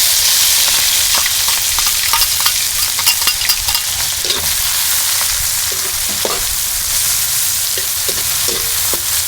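Tomato, onion and garlic sautéing in hot oil for a mung bean stew give a loud, continuous hissing sizzle, broken by scattered spatula scrapes and pops, close up with no talking.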